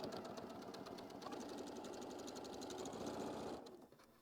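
A sewing machine stitches down pieced quilt-block fabric in a steady, fast run of needle strokes for about three and a half seconds, then slows and stops, with no talk.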